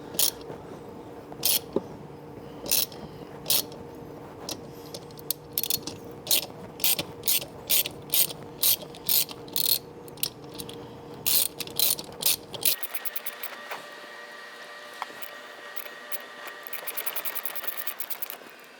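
A ratchet tap handle threads a valve hole with a run of sharp, evenly spaced clicks, first slower and louder, then quicker, finer ratcheting toward the end, with no talk.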